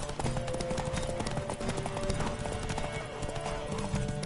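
Rapid clip-clop of horse hooves at a steady gallop in The Witcher 3, sounding synthetic and game-like, with clanking and background effects layered over it.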